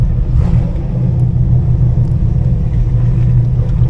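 A Chevrolet Camaro with a misfire accelerating on a straightaway, its engine a loud, steady low rumble close to the listener, with no talking.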